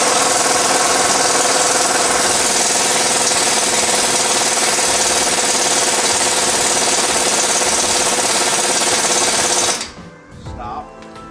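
A pneumatic air tool spins in reverse on a 2004-2008 Nissan Murano front suspension, a loud, steady whirring drone that runs unbroken for about ten seconds and then cuts off abruptly, leaving faint clatter.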